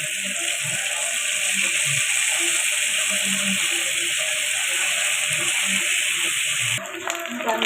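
Sweet paniyaram batter sizzles in hot oil in a paniyaram pan, a steady close crackling hiss that runs unbroken, with a brief clatter near the end.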